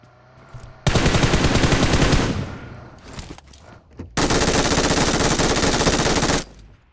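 Video game automatic gunfire from an MG3 machine gun rattles out in two long, loud, sustained bursts with a short pause between them, close up and without talk.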